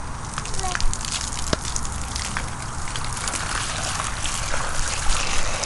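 Water trickles and splashes as a child pours it over himself while playing in a front yard, a steady wet dribble with occasional small splashes under outdoor background noise.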